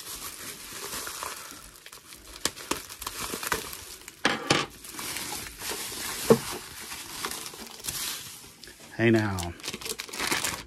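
Gift wrapping paper crinkles and tears in short bursts as a present is unwrapped, mixed with people chatting nearby.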